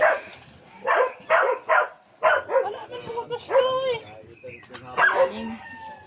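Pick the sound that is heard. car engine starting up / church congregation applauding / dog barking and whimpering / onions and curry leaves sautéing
dog barking and whimpering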